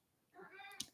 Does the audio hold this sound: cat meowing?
yes